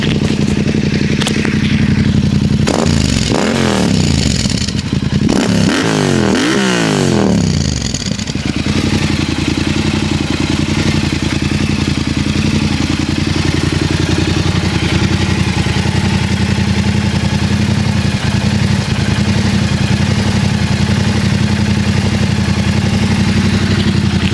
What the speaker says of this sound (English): Black Widow exhaust.